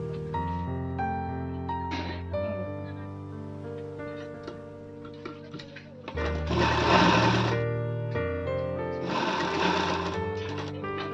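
A sewing machine stitches a princess-cut blouse in two steady, close bursts of running, each a couple of seconds long, while someone talks quietly and soft background music plays throughout.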